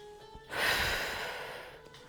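A sharp, audible inhalation during an abdominal exercise for hyperlordosis: a rushing breath rises abruptly and then fades slowly over about a second and a half, close and alone with no talk.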